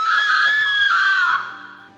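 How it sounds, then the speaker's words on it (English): A girl's loud, high-pitched scream, sustained for about a second and a half and then trailing off, serves as a horror-story effect. It rings out close and alone. "she started screaming."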